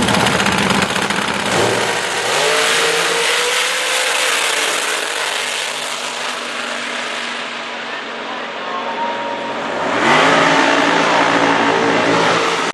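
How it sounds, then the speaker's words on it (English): A front-engine supercharged alcohol Top Dragster revs hard at a drag strip during eliminations, a loud continuous engine roar that rises and shifts pitch repeatedly, with another surge near the end. "Driving his wife's Dragster."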